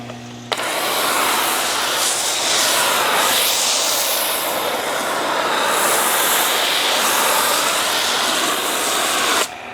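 Loud, steady hiss of a Quivr hose spraying water to rinse Luminis Mint shampoo off car paint, starting abruptly and running continuously with slight surges before stopping near the end.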